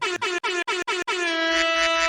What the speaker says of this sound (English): I want the air horn.